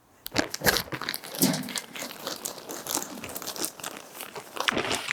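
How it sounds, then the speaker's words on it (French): Potting soil, bacteriosol and grass seed are mixed by hand in a wheelbarrow, giving a close, continuous gritty crunching and rustling with irregular louder scoops throughout. "on va mélanger tout ça, le terreau, le bactériosol et le gazon"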